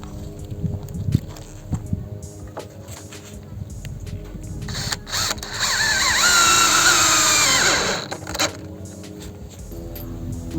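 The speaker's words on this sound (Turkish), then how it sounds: "Vidalamak ister misin Asil?" A power drill drives screws into wood while building a treehouse stair railing, a rising whir of a few seconds amid handling knocks, footsteps and background noise.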